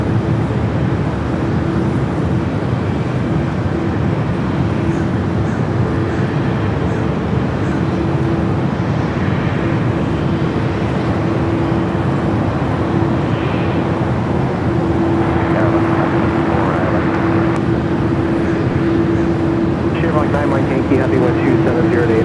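Turkish Airlines Boeing 777-300ER on its takeoff roll at Los Angeles International Airport: a loud, continuous broadband jet roar with a steady hum, heard alongside ongoing talk.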